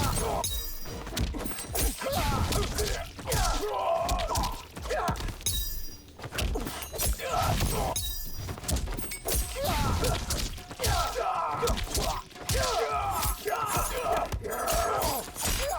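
Rapid strikes from a Smoke combo in the video game Mortal Kombat 1, a dense run of punchy impacts, thuds and shattering hits, with brief pauses between flurries and game music underneath.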